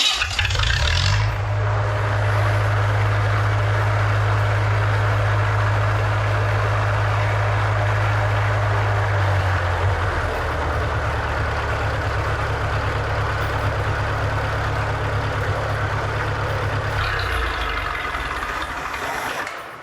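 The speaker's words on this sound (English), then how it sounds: "now we're gonna go ahead and fire up the machine and see if low idle works" Lincoln Electric SA-200 welder engine running steadily at low idle, a loud, close, continuous low drone that changes character partway through and lasts nearly the whole time without talk.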